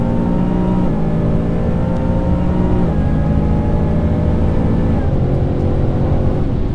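A supercharged 2019 Mustang GT with an Edelbrock blower accelerates hard down a drag strip, its loud engine note climbing through rapid gear shifts with quick dips near one, three and five seconds, steady and close throughout.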